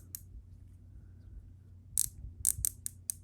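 Flex head ratcheting wrench with a nickel finish and gold ratchet being clicked back and forth, giving a short run of sharp metallic ratchet clicks after a quiet moment, fairly close.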